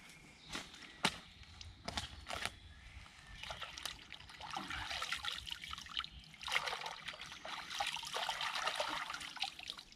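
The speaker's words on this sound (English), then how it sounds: "we just give them a quick rinse in the stream and then we hang them up" Willow bark strips are rinsed in a shallow stream, water trickling and splashing softly with intermittent sharp handling sounds and light movement nearby.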